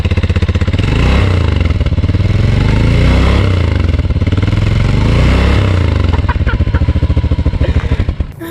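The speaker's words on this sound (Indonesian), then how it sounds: "Cuman dibolongin knalpotnya sengaja." Motorcycle with a deliberately perforated exhaust revving loud and close, a harsh rattling, crackling engine roar held steady for several seconds before easing off near the end.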